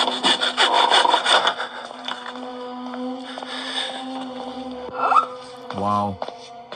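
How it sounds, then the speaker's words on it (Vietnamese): Wooden boards are sawn in a horror video game, a rhythmic series of rasping back-and-forth strokes up front, followed by creaks and other game sounds as a voice talks over it. "Ở đây thì mình sẽ cưa những tấm gỗ ấy đi."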